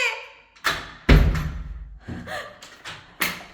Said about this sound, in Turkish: Bu kapı çalıyor.